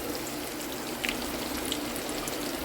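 Onions frying in a pan for tomato fried rice, a steady, soft hiss of fine crackles with a few small pops, close and continuous with no talk.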